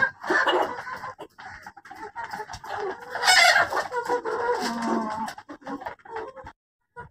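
Golden Misri hens cluck and squawk close by in uneven bursts on a farm, with several birds calling over one another before the sound briefly drops to silence.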